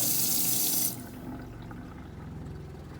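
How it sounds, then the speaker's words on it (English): Kitchen faucet in a NuCamp Tab 400 camper trailer runs with a strong, steady hiss of water that drops abruptly to a quieter, fuller flow after about a second, continuing alone. "we want to run it till it is this clear water color"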